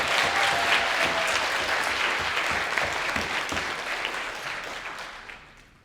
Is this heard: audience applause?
yes